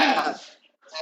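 A single short cough over an online meeting connection, a brief burst followed by near silence and then a faint resumption of sound.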